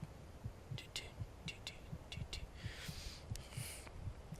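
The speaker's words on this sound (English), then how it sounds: "You can hear my heartbeat in the." Player character's heartbeat during a mountain-peak battle in the game Skyrim, a steady, soft double-thump pulse repeating about twice a second, with faint game ambience and brief airy swells over it.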